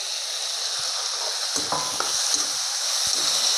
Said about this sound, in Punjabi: ਪਿਆਜ਼ ਨੂੰ ਵੀ ਆਪਾਂ ਹੁਣ ਭੁੰਨ ਲਾਂਗੇ